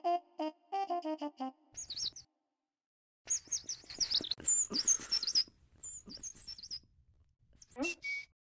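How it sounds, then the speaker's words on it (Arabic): A bird sings in a children's puppet show: a run of rapid, even chirps, then after a short pause bursts of bright, warbling tweets and trills, fairly close and clear, with no talk over them. "فلنسمع بلبل."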